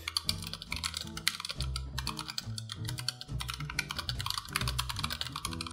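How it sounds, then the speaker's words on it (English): Rapid clicking keystrokes from typing on a Razer Huntsman Tournament Edition tenkeyless keyboard, steady and continuous, with music playing underneath. "So whenever you type, the noise just Spreads out in that way."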